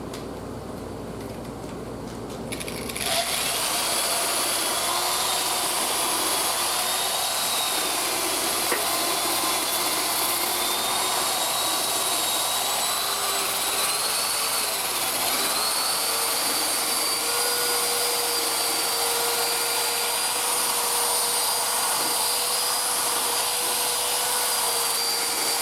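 A power-driven wire brush polishes an old Amplion horn speaker during restoration, starting after a short quiet moment and then running as a loud, continuous whirring grind with a high whine that holds steady to the end.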